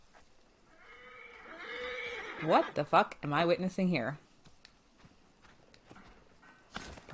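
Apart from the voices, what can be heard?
horse neighing and hooves in video game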